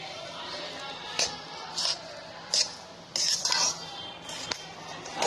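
Ground homemade ladoo ingredients being stirred and mixed in a pan, with scattered metallic scrapes and clinks of a spoon against the pan at irregular intervals over a quiet room hiss, each stroke short and fairly close.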